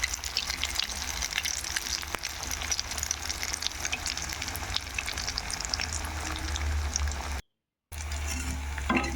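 Radish fritters fry in hot oil in a wok, a dense continuous sizzle and crackle heard close up, with a brief dropout near the end.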